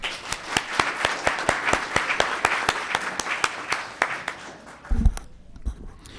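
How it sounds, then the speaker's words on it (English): Applause from a small audience at a town council meeting, with claps spaced out and sparse rather than dense, tapering off at the end as a voice briefly speaks. "One more round of applause for Seth"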